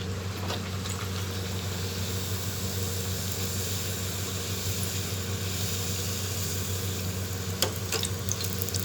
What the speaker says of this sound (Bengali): এবার আমরা একটা একটা করে সব নানপুরিগুলোকে ভেজে নেব।